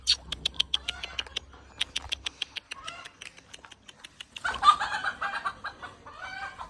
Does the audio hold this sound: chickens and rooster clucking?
yes